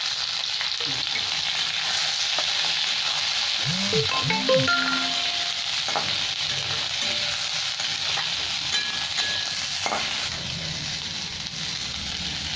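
Capsicum and onion fry in a pan with a continuous soft sizzle and occasional stirring scrapes, moderately close, while faint tonal sounds drift in the background.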